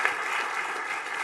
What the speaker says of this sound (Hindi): जोरदार तालियों के साथ स्वागत कीजिए देश के गृह मंत्री श्री अमित शाह का